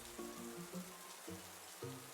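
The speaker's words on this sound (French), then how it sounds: "La pluie devient plus forte." Steady rain grows heavier, with a constant hiss of drops on surfaces and soft melodic music playing over it.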